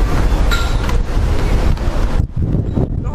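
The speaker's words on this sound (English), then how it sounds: "So windy out here." Strong wind blows outdoors by the ocean, buffeting the microphone with loud, continuous rumbling gusts and a brief lull near the end.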